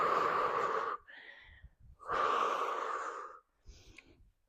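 Forceful exhales during a full-body strength workout flow: two long, loud breathy blows, each followed by a quieter inhale, close and rhythmic with no talking.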